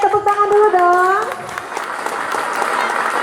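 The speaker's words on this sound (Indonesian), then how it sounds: "Oke, tepuk tangan dulu dong." Applause from an audience at a primary school's sixth-grade farewell event, beginning after a brief sung or voiced tone and continuing as a steady clapping wash under faint voices.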